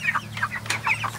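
Several chickens clucking nearby in quick, uneven bursts over a low steady hum, no voices.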